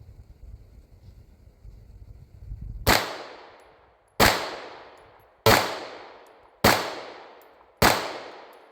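Pistol firing 124 grain Sierra jacketed hollow point rounds outdoors, five loud sharp shots spaced roughly a second apart, each with a short decaying ring, after a stretch of low wind rumble.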